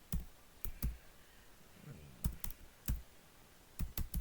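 Scattered keystrokes on a computer keyboard while typing into a Notepad-style text app, sharp isolated clicks arriving in small clusters with short pauses between, close and fairly quiet.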